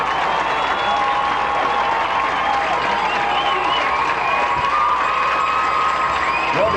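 A large crowd at a 1994 high school football game between LHS and WJ roars and cheers continuously, with dense applause, shouts and whoops holding at a loud, even level throughout.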